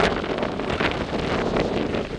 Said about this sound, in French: On va prendre des rafales